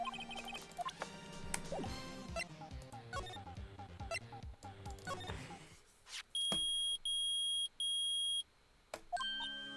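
A metal detector in the Phoenix Wright: Ace Attorney video game beeps in three long, loud, steady tones, following a stretch of busy game music and effects.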